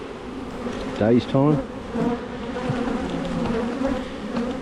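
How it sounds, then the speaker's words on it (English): Honeybees buzz steadily around an open Langstroth hive during an inspection, a dense close hum that swells and wavers throughout while a voice speaks briefly over it. "these bees are certainly letting me know"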